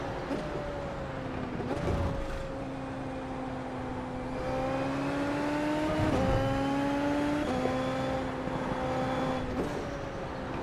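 A Toyota SF23 race car engine at Suzuka in iRacing screams at high revs, its whine climbing steadily through each gear, dropping with sharp upshifts and rising again, steady and close throughout.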